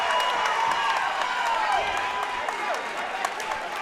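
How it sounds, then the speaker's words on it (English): A crowd cheers and roars steadily at the AKA 36 MMA fight, a dense wash of noise that never lets up, with voices talking over it. "The crowd here at AKA 36 firing these guys up for the final 90."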